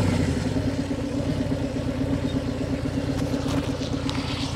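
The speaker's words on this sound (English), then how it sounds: "I'll just listen to the exhaust." A Harley-Davidson Sport Glide motorcycle idles steadily through its exhaust, a deep, even low rumble held close and alone for several seconds with no talk.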